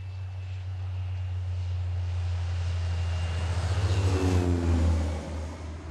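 A crop-dusting airplane flies over a farm field, its steady engine drone holding loud and near, then rising and sweeping past with a whooshing Doppler shift before easing off.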